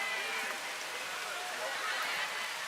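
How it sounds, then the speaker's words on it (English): Driving rain pours steadily over an outdoor Australian rules football match at Colonel Samuel Smith Park, a soft continuous hiss of rain on surfaces with no break, fairly faint at a distance. "Driving rain conditions here at Colonel Samuel Smith Park"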